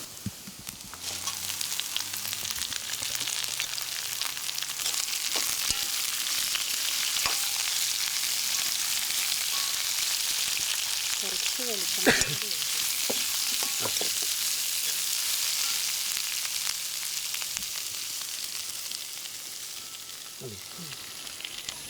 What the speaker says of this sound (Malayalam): സവാള സവാള ചെറിയ ഉള്ളി മുളക് അരിഞ്ഞത് പച്ചമുളക് ഇതെല്ലാം കൂടി ഇടാൻ പോവാണ്